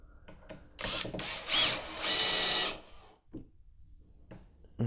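A power driver sends screws into the leg of a wooden sloping beehive stand, short bursts of whirring motor with a ratcheting clutch, followed by quieter handling clicks.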